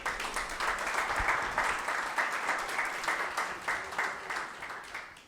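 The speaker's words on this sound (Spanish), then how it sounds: "Dale un fuerte aplauso al Señor" Steady applause from a church congregation during a sermon or theatrical play, dense continuous clapping filling the room at even loudness without talk.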